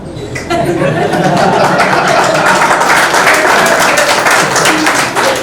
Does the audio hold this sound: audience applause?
yes